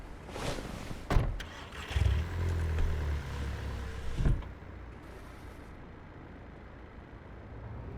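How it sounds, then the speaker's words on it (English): A car engine cranks and catches in the open-world game Cyberpunk 2077, a loud close burst with a rumbling low idle that settles and fades after a few seconds, with some clunky thumps before it. "I like how the car just remotely started."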